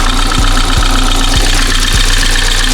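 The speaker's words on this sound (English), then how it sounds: "caused this car to misfire and run rough" A BMW 4 Series engine idles loud and close with an uneven, stumbling knock from a misfire, the rough beat lurching irregularly instead of running smooth.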